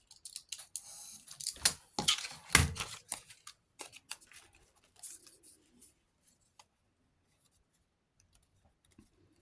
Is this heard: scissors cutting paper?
yes